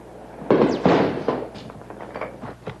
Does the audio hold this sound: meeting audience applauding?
no